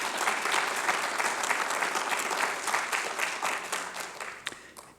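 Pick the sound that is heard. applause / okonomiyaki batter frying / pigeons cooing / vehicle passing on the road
applause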